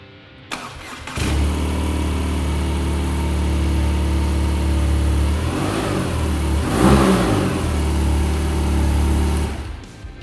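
A BMW R nineT motorcycle engine fires up and runs with a deep, steady rumble, swelling in a rev midway before settling back to idle, loud and close, then cutting off near the end.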